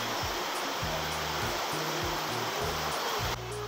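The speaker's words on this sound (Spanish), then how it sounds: "les cuento que está cayendo un aguacero, pero señor aguacero." A heavy tropical downpour pours down outdoors where plants are being repotted, a loud, steady roar of rain with low thumps and rumbles underneath, no voices.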